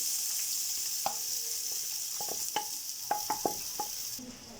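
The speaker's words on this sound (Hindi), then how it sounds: "प्याज का कलर गोल्डन होने तक हम इन्हें फ्राई करेंगे।" Onions fry in hot ghee in a pot for chicken biryani, giving a continuous bright sizzle. Several sharp clinks and scrapes of a stirring utensil against the pan break through, and no one speaks.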